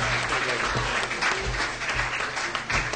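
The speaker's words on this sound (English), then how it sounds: "Give her another round of applause" An audience at the 2011 Irish Music Awards gives a performer another round of applause, dense and fairly loud throughout, with a low sustained hum beneath the clapping.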